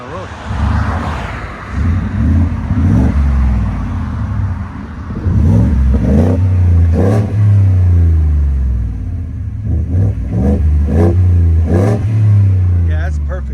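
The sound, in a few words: car engine revving through a Borla exhaust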